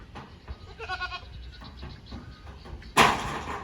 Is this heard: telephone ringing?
no